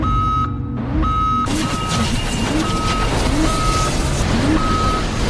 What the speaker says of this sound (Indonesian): Thomas dan kawan-kawan pun dikejutkan oleh alarm peringatan bahaya